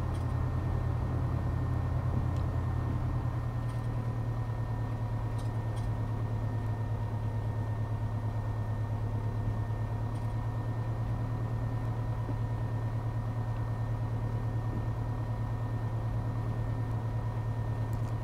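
Steady drone of a Piper PA-28R Arrow III single-engine propeller plane in Flight Sim World, a constant low hum with the pitch stepping slightly at one point, heard alone without talk.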